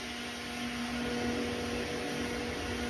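Mixer grinder and pressure cooker noise playing back from a video on a household device, a steady mechanical whir and hum with a constant tonal drone, moderately loud and unbroken, with no talking.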